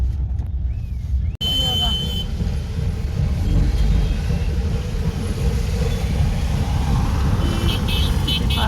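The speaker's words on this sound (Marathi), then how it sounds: "पाऊस आणि ट्रॅफिक रात्रीची ट्रॅफिक जाम" Steady road traffic at night in heavy rain during a jam, a continuous broad wash of engine rumble and wet hiss, loud and close, with a brief sharp knock early on.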